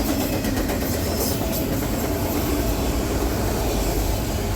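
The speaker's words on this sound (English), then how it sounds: "This train had no problem making its way over the water level route and into Massachusetts" A CSX freight train rumbles past continuously on the New York Central water level route, a loud, steady roar of rolling cars with faint rhythmic clatter and no voices.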